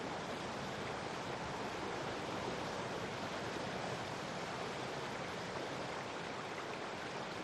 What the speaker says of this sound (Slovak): Z hlbokých roklín sa ozýva burácanie kaskáda vodopádov.